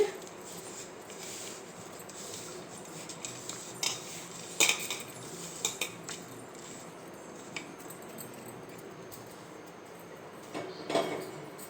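A spoon mixes a sweet laddu mixture in a metal vessel, giving a series of irregular soft clinks and scrapes. Each is quiet and close, with short louder knocks spaced through a faint background.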